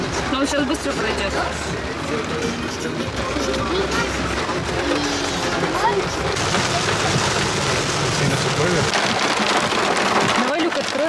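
Steady rain patters and hisses on a surface throughout, with people talking over it.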